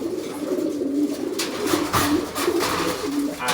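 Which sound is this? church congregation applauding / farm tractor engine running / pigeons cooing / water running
pigeons cooing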